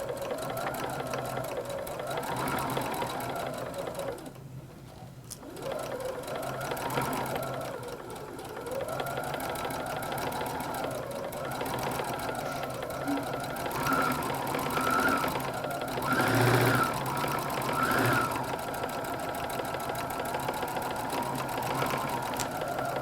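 Sewing machine stitching steadily around a quilted tote bag with a boxed bottom, a continuous close mechanical whir with brief pauses and a few stops for backstitching.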